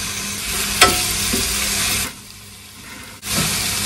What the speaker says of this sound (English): Make your onion nice and brown.